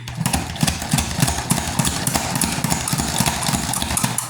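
A salad spinner whirls washed cooking greens, giving a loud, steady mechanical rattle and whir with rhythmic clacking pulses throughout, close to the microphone.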